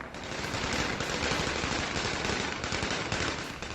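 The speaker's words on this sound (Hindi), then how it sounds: "कई तालिबानी आतंकी हाथों में आधुनिक हथियार लिए हुए आसमान में फायरिंग करते दिखे।" Automatic gunfire fired into the sky in Kabul by armed Taliban fighters, a dense, continuous burst of rapid shots that fills the whole clip with no speech.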